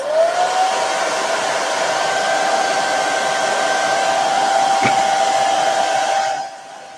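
A dryer blowing to dry chalk paste on a craft project, a loud, steady whooshing roar with a faint whistle-like tone that runs for several seconds before cutting off near the end.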